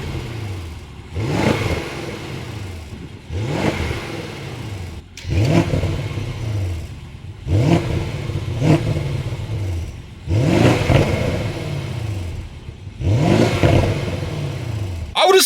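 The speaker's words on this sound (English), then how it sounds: "enjoy these stock M550 revs" A stock BMW M550 engine revs repeatedly, six or so sharp rises in pitch that fall back between bursts, loud and close with no speech.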